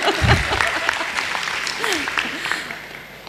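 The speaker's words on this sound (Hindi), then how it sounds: "आप ताली बजाओ" An audience at a spiritual talk claps briefly under a speaking voice, the applause moderate and somewhat distant while the talk continues over it.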